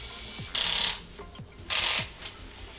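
A Lego Technic bulldozer 42030 working its scoop mechanism, heard as two loud bursts of rapid plastic gear ratcheting, each lasting under half a second and separated by quieter clicks, close up with no talking.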